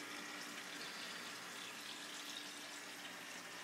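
Water drains steadily through a bell siphon in a hydroponic lettuce unit, making a constant close rushing gush like a running tap, unbroken for the whole stretch with no talk.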